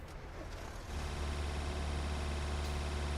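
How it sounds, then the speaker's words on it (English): Truck engine in the TruckersMP multiplayer driving game, a steady low rumble that swells louder partway through and holds as a continuous drone. "Can you hear a revving engine?"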